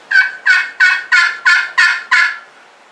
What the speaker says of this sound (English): he gobbled again, but it was closer